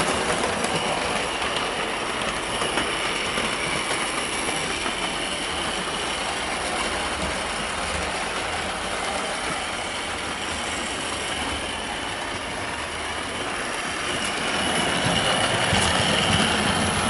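A Bachmann class 55 Deltic model locomotive runs on track, giving a steady, continuous mechanical whir and rail rumble at close range that swells slightly near the end, with no talking.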